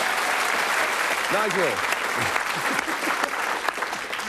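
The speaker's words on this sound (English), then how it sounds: "giving you a round of applause there" Studio audience applause on a British TV darts game show, a steady roar of clapping with someone speaking over it.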